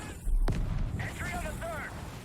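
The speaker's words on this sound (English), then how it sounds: "Some more gunshots." A sharp gunshot cracks out in Modern Warfare 2 gameplay, followed by booming, rumbling echoes and whooshing tones, dense and loud like game combat effects.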